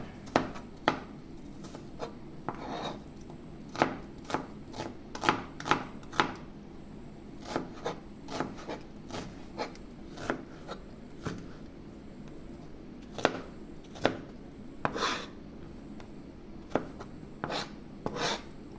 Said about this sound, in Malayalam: ഉള്ളി ഇങ്ങനെ ചെറുതായി മുറിച്ച് കൊടുക്കാം